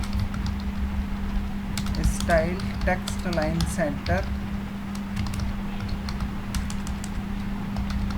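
Keyboard typing while writing CodeIgniter code for an e-commerce website, a light run of close key clicks clustered in the middle of the clip under steady Hindi talk and a constant low hum.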